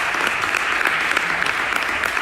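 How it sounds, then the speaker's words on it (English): Dense, steady audience applause at a domestic violence awareness storytelling event, many hands clapping close and loud throughout with no speech. "Let's give all of our speakers a round of applause."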